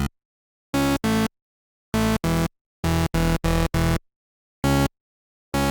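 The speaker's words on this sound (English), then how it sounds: "I think we need to add a saw wave to make it a bit more crunchy" Synthesized mid bass layered with a saw wave, buzzy crunchy tones in short gated stabs, some single and some in quick pairs or runs of four, loud and dry with silence between hits.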